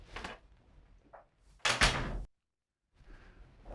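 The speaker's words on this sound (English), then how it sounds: "Do you mind shutting the door?" An office door is pushed shut with a solid, close thunk after faint shuffling movement, then the room goes nearly silent before quiet rustling resumes.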